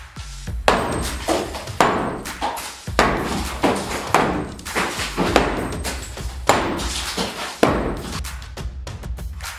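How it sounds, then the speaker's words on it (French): A hammer strikes concrete on a renovation site in a series of sharp, heavy knocks, irregularly spaced about every half second to second, each followed by a brief ringing decay, close and loud with no talking. "Comme ça après je mettrai des petits coups de marteau pour agrandir un peu sans tout casser"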